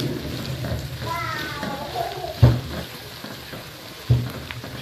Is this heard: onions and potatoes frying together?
yes